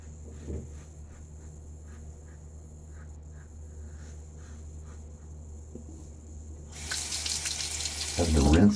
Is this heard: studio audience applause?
no